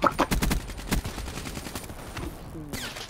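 Sentry gun in Call of Duty: Black Ops 3 firing loud rapid automatic bursts, with a dense volley early on, then sporadic shots and battle noise trailing off.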